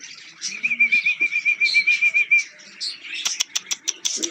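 Birds chirp and tweet in quick bursts at sunset, with a sustained trilling call in the middle and a flurry of sharp, rapid chirps toward the end.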